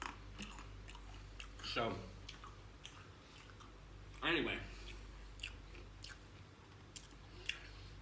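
Someone eating a soft, slightly mushy mango bought at 7-Eleven, with two wet, squishy bites and quieter chewing between, close and faint, with a brief spoken phrase.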